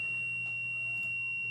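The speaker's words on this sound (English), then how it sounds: "which machine's beeping at me right now" An Apple Self Service Repair machine emits a sustained, loud, steady electronic beep tone that holds throughout, with a faint low hum underneath and no talking.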